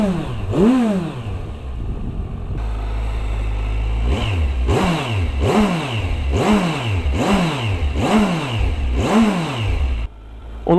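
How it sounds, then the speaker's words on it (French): Kawasaki Versys 1000 motorcycle engine revved repeatedly at close range, a series of about seven sharp rising-and-falling throttle blips over a steady idle, loud and with no voices. "Le son qu'on entend, c'est vraiment du bloc moteur."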